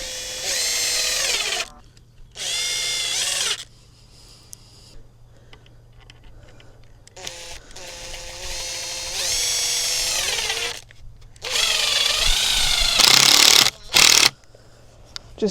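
A power drill drives screws into wood for a garden cloche build, running in several loud bursts of a few seconds each with whining rises and pauses between them.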